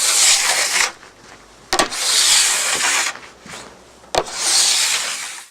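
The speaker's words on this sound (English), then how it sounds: "Now, scraping the board, just going to want to go top to bottom, put as much pressure on as possible" A plastic scraper drags hard from top to bottom across a waxed snowboard, taking wax off in three long, loud, rasping strokes with brief pauses and clicks between them.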